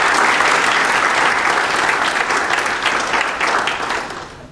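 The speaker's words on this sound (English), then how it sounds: "let's give ourselves a great big round of applause" Steady applause from a luncheon audience of funders, dense and continuous from the start, then easing and thinning toward the end.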